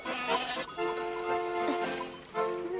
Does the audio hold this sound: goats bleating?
yes